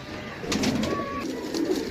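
A soft pigeon coo rises briefly over a faint, noisy background, with a low murmuring quality.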